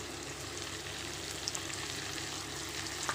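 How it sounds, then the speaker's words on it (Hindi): Masala frying with quail pieces in a pan while being stirred and tossed, a steady, loud, close sizzle that holds unbroken throughout with faint scraping, and no voices. "இப்போ இதை போட்டு பிரட்டிடலாம்"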